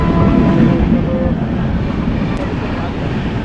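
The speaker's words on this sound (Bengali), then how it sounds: "ফাইনালি আমাদের এই পাঁশকুড়া লোকাল ঢুকলো" A crowded Panskura local train pulls into a busy station, a loud, broadband rumble and roar of the arriving train dominating throughout, with crowd noise and voices mixed in.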